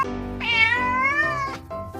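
A pet cat demanding to be let in at night, giving one drawn-out, rising and falling meow lasting over a second, close and clear with no one speaking.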